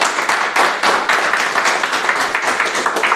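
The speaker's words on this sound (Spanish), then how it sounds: "¿Cuántos van a darle un fuerte aplauso a Dios?" A church congregation breaks into loud, sustained applause, dense clapping from many people filling the room steadily with no speech over it.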